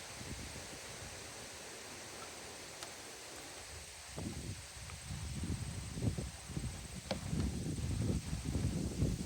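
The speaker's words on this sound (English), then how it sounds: "the wind is suddenly picking up out of nowhere here" Wind blowing outdoors, a faint steady rush that strengthens into louder gusty buffeting with rustling in the second half.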